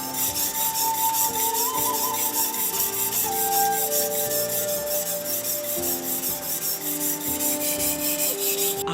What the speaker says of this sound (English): Customers who patronize hocho endeavor to sharpen it.